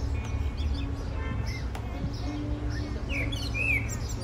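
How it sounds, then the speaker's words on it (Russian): A thrush sings from a large olive tree outdoors, with short chirps and warbled phrases rising above quiet background street ambience, fairly faint and at a distance. "А это явно дрозд где-то там, в этой большой оливе."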